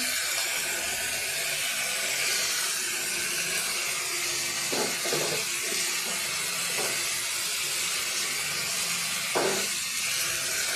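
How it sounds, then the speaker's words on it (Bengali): Lentils in a cooking pot with vegetables give off a continuous broad steamy hiss, punctuated by a few soft knocks from stirring, with no voices. "ডালটা ঢেলে দিয়ে একটু নেড়ে দেবো"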